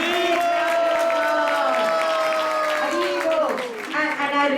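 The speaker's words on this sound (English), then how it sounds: "Let's give Mataji a big round of applause." A festival audience at an all-day Sunday gathering applauds and cheers loudly, with sustained whoops and raised voices layered over continuous clapping, close and full throughout.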